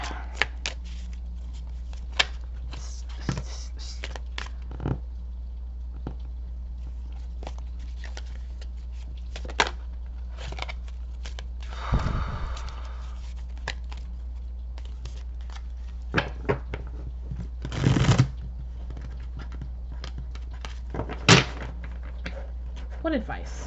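Tarot cards being shuffled in short, close, crisp bursts of riffling and flicking, scattered between pauses over a steady low hum.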